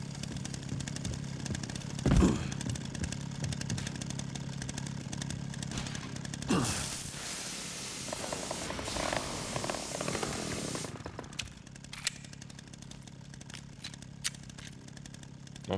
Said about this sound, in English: let's use this chainsaw as long as we can